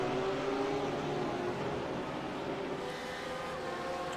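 GT3 race cars, a pack of Porsches and a BMW, racing at Hockenheim, with a steady, loud engine roar that holds throughout and shifts slightly in pitch as they run into a corner.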